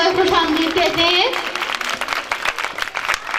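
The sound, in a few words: audience applause welcoming the guest of honor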